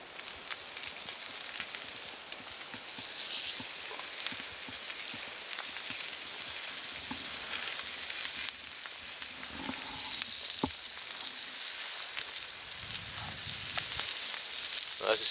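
Bacon sizzles and spits in a frying pan over a woodland campfire, a steady crackling hiss with scattered sharp pops and faint stirring scrapes, close and continuous without speech.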